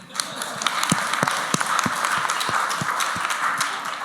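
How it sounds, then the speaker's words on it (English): Audience applause at a meeting, steady dense clapping from a room full of people, continuous and fairly loud throughout with a few sharper individual claps standing out. "Applause."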